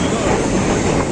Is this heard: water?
no